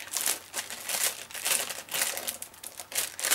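Loud crinkling plastic packaging, crackling in repeated bursts as it is pulled and handled up close, with no talking.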